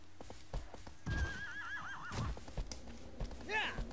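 A horse in Shadow of the Colossus gives a long, wavering whinny followed by a shorter neigh, with hoof clops and game ambience underneath, while someone talks over it.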